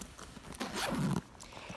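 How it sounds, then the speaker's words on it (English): A backpack's zipper closure is drawn shut in one quiet, close-up rasping pull lasting under a second, with soft handling noise around it and no talking. "And then I have the zipper closure here."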